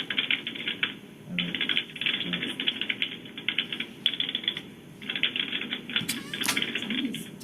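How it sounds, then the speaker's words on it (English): Rapid typing clatters on through a legislative committee meeting room, with bursts of keystrokes like an old typewriter repeating in uneven runs for several seconds, moderately close, with no talk over it. "Somebody's typing away."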